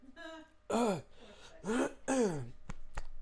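A few harsh, strained coughs and throat-clearing bursts from a person who choked on water, close and loud, separated by short gasping breaths.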